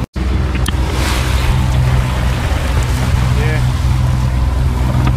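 A boat's engine drones loud and steady while motoring through rough ocean swell on an open-sea passage, with wind and water rushing over it for the whole stretch.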